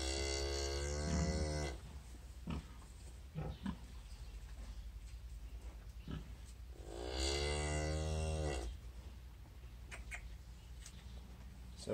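Cattle on a farm, including a mama cow with calves, give two long loud moos several seconds apart, close by, with quieter animal shuffling and grunts between them.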